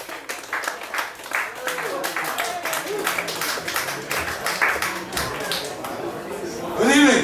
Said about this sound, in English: clap like you had an extra pair of hands attached to you